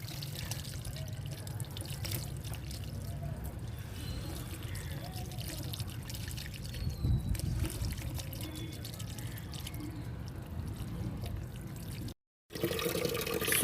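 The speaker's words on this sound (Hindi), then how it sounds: "नहाते रहो यस।" Water is poured over a body while bathing, a continuous splashing trickle running steadily for several seconds, with a brief gap near the end before the flow resumes.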